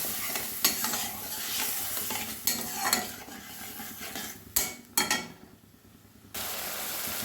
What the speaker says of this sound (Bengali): এবারে মশলা কষানো হয়ে গেছে মশলা থেকে তেল ছেড়ে দিয়েছে